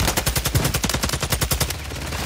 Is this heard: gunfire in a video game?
yes